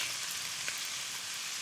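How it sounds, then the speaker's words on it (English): Whole cumin seeds sizzle in hot cooking oil, a steady, fairly quiet hiss of frying with a faint pop partway through, heard alone. "Oh, I'm gonna throw this in the oil, let it sizzle."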